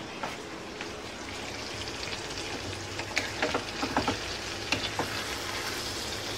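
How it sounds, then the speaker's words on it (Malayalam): Masala sizzles steadily in a pan while cooking alongside chicken, with a continuous frying hiss and a few soft stirring scrapes near the end. "ഇതിങ്ങനെ മൂത്ത് വന്നുകൊണ്ടിരിക്കുകയാണ്"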